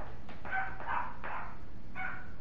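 Dogs bark in about four short, sharp bursts spread over a couple of seconds, at moderate distance with a slight yipping edge and no talk over them.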